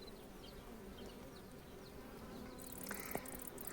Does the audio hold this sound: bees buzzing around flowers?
yes